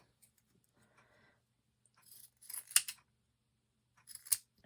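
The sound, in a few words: scissors trimming paper wings for a craft bottle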